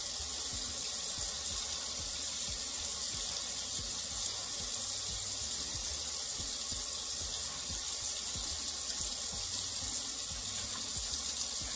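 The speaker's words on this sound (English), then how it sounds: "I'm gonna go in and wash my hair the second time with this shampoo" Water from a tap runs in a steady, even rush while hair is washed with shampoo, a continuous close splashing hiss with no voices.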